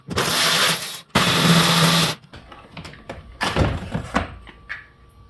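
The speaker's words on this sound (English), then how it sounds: "I'm hoping this steering column just comes right out." A steering column being pulled out of a 2006-2011 Honda Civic during heater core work: two long, loud scraping rubs, then softer clunks, knocks and rattles of the column coming free, close up with no talking.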